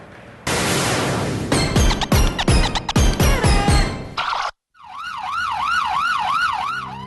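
A burst of loud crashing and banging impacts gives way to a brief silence, then a wailing police siren rises and falls repeatedly.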